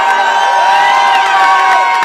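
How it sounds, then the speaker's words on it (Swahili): A crowd at a launch event in Nairobi cheers and whoops loudly and continuously, close and full, with shouting voices layered together. "bila kusahau governor wa Nairobi Mike Sonko, wapi makofi,"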